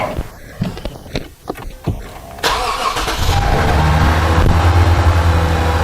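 A 2013 Lexus GS350 sedan's engine cranks and catches partway through, then settles into a steady, loud idle that continues to the end, preceded by light handling noises.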